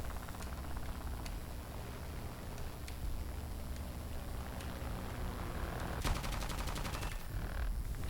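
Aircraft machine guns chatter in a Ki-61 arcade air-combat match, a dense, steady rattle of gunfire at moderate distance under continuous engine drone, with a sharper close burst near the end.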